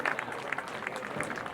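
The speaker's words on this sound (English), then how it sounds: "the crowd cheers Raymond on as he moves towards the 11th tee" A golf gallery at the 1992 Masters cheers and applauds as a player walks to the 11th tee, a brief burst of scattered clapping and crowd noise heard from a moderate distance.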